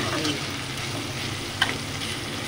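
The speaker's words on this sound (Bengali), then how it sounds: "এটা একটু পেঁয়াজটা ভাজা ভাজা হোক।" Onions fry in a pan in a home kitchen, a steady close sizzle with one sharp clink of a utensil partway through.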